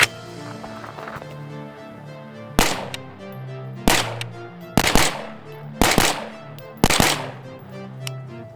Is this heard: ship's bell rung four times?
no